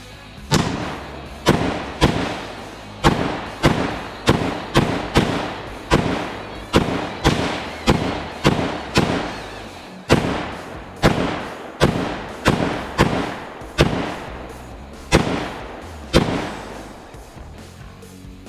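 AK-47 rifle firing 7.62x39 rounds at a cast iron Peerless 2300 transmission outdoors: roughly twenty sharp, loud shots at a steady, deliberate pace, each with a short decaying echo.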